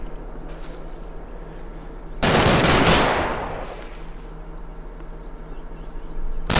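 A burst of heavy machine-gun fire rakes enemy foxholes in the Combat Mission Market Garden wartime strategy game. The loud sustained rattle lasts a second or so and fades, with distant battle noise before and after.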